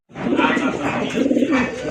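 Pigeons in a breeder's collection coo steadily and close by, a continuous low, throaty warble that fills the whole moment, with a faint voice briefly in the background.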